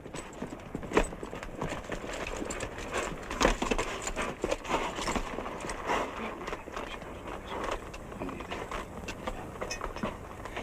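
Horse hooves clip-clop at a steady walking pace over a noisy outdoor background in a Western film, fairly distant and muffled.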